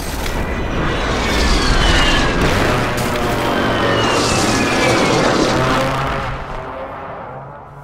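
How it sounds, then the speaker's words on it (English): A precision airstrike in Call of Duty Warzone on Rebirth Island brings loud, rumbling explosions and the roar of passing aircraft. Heavy booms pile up for several seconds before the sound fades at the end. "Friendly precision airstrike inbound"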